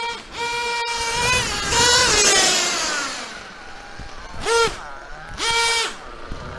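A small nitro RC car engine with a Chinese clutch bell runs at a high, buzzing idle, with a few sharp rev blips and whining bursts rising and falling over the steady drone, close by.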